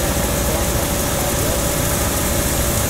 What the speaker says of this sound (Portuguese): Estou dando um motor aqui.